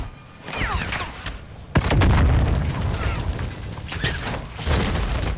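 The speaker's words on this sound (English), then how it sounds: "There's shots right there." Heavy gunfire and booming blasts from a Call of Duty match, with sharp shots and loud rumbling impacts rolling through, some distant and some close, under occasional talk.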